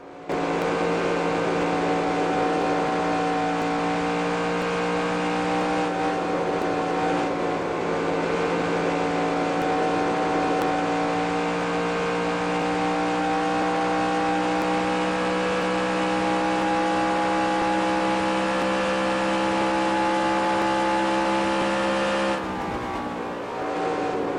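A race car engine in the video game NASCAR Racing 2003 Season on a qualifying lap at Indianapolis, holding a loud, steady, high-pitched drone at sustained throttle with brief dips in tone partway through and near the end.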